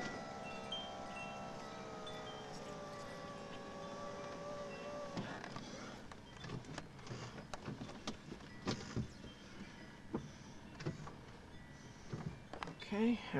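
Whirring electric motor of the power windows on a 1987 Chevy Cavalier, a sustained hum sliding in pitch for about five seconds, followed by faint clicks, thumps and rumbling interior noise.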